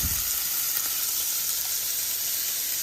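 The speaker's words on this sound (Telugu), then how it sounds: "ఇలా బాగా ఫ్రై అయిన తర్వాత" Potatoes frying in a pan for an aloo tomato curry give a steady, even sizzle with a bright hiss that holds unbroken from start to finish, close and moderately loud, with no voices.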